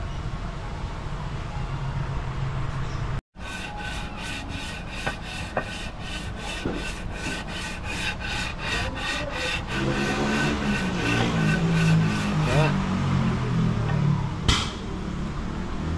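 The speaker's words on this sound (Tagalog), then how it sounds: "kailangan lihain to hanggat sa mapantay po natin to dito banda" Sandpaper rubs back and forth against a Honda City engine part in a workshop, a loud rhythmic rasping scrape with a brief pause near the start, the strokes growing rougher and denser toward the end.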